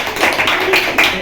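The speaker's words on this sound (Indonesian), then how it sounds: "Tepuk tangan dong." Hand clapping from a high school group counseling session in a classroom, a handful of quick, close claps landing at an uneven beat with voices talking over them.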